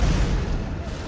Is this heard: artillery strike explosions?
yes